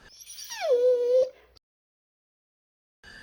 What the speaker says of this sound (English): The dog will be absolutely useless other than making a terrible row